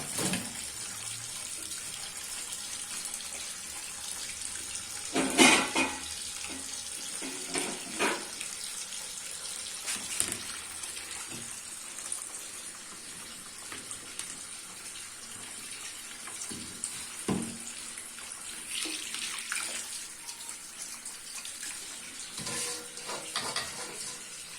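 Tap water runs steadily into a sink while goat heads are washed for a traditional Pakistani dish, with occasional knocks and clatters of handling over the continuous stream.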